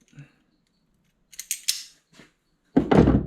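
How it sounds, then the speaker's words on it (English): A jam nut on an aftermarket fuel sender for an old fuel tank is tightened with a hand tool. A few close, short metallic ratcheting clicks are followed by a louder scraping rattle at the end, with no voice. "Tighten the jam nut."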